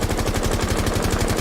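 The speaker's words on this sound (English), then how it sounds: "But look at the gap between each shot." Automatic rifle fire in Rainbow Six Siege, shot without recoil control at about ten meters, fires as a loud, rapid, evenly spaced burst that runs unbroken through the whole moment.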